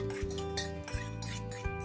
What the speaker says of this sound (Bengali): এবার এই ফোড়নটাকে খুব ভালোভাবে মিশিয়ে দেব